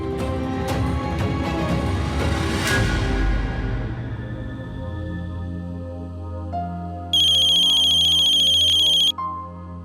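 A phone ringtone plays loudly as a melodic tune that fades, then switches to a steady, piercing electronic ring for about two seconds before cutting off, with no voices.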